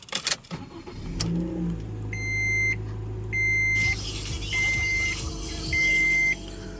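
A small 2012 Scion iQ engine cranks and starts, then idles steadily while a high electronic chime beeps in short repeated bursts.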